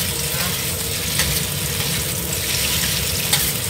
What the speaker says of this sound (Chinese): 好了，把虾炒香先